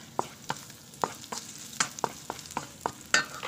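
Garlic, onion and ginger sizzle in oil in a pan for pork and chicken adobo, with a steady fry and regular scraping stirs about every third of a second, close up and without talking.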